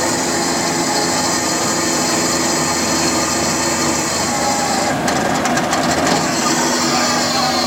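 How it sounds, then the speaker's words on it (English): A valve released on steam locomotive BR&W 60 during preparation, a steady loud hiss of rushing steam with a burst of sharper crackling spurts near the end, no talk heard. "Rob just released a valve up there."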